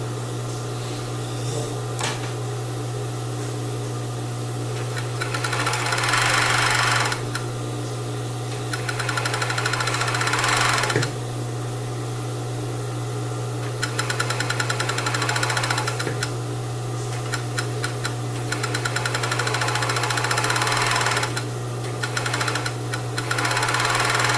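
Sewing machine stitching an open seam in crepe bubble fabric for a ruffled blouse, running in steady bursts with short pauses between them over a constant motor hum, close and fairly loud, no talking.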